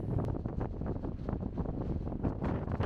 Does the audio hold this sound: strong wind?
yes